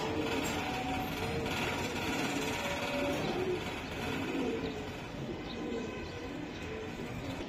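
Green gola pigeons coo steadily in a busy, noisy setting, with soft chirps from other birds mixed into a constant background hum.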